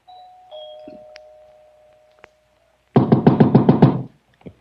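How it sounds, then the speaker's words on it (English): A doorbell rings inside a large, dark house in a radio drama: a steady ringing tone fades out, a sharp click follows, then a loud, rapid buzzing ring lasts about a second before cutting off. "punched at the doorbell, and heard it ring inside"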